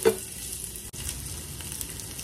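Chopped onion drops into hot oil in a pan, giving a loud burst of sizzling at first that settles into a steady close frying hiss.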